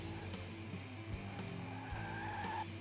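A car driving and skidding in the video game Rising Star 2: a steady engine hum with a drawn-out tire squeal rising near the end, moderately loud and without talk.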